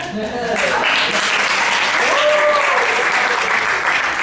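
Theater audience applauding strongly and continuously, a thick, even roar of clapping with a voice briefly heard over it.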